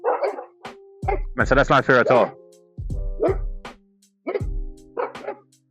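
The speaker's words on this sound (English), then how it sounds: "I apologize for the dogs." Several dogs bark and yip in loud bursts near the microphone, breaking in repeatedly across a man's spoken monologue, with short gaps between the volleys.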